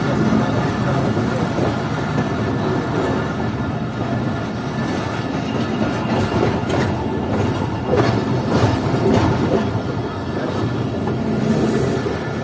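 A passenger train heading toward Kuchlak from Chaman runs along the down line, its steady rumble and clattering wheels loud and close throughout, with occasional squeals and a faint voice in the mix.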